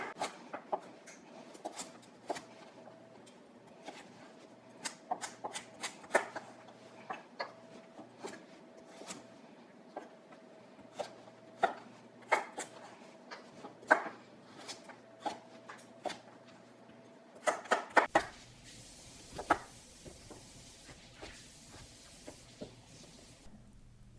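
A knife chops carrots into small cubes on a board in a series of crisp, irregular taps, with a quick flurry of cuts near the end. The chopping is close and fairly quiet, and nobody speaks.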